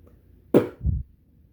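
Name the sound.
beatboxing bass sound, B and P mimicked together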